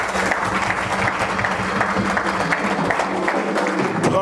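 A church congregation applauds Jesus at a worship service, with steady, dense clapping that fills the whole stretch at close, even loudness and no clear voices above it.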